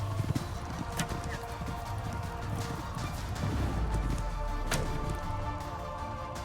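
Horses gallop in an Age of Empires IV game cinematic, with a continuous clatter of hooves over a low rumbling background, occasional sharper thuds and no talking.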